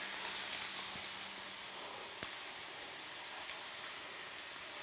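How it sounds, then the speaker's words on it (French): Meat seared in a pan with onions added hisses in an even, close sizzle, with a faint tap or two from stirring and no voices. "on a d'abord fait saisir la viande. Voilà. Juste après, on rajoute les oignons."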